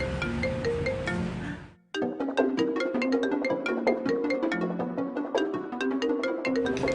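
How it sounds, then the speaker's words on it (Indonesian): A phone ringtone plays a repeating melodic tune, loud and steady, breaking off briefly near the start and then resuming and ringing on unanswered without any talk over it. "itu ada telepon kok nggak diangkat sih?"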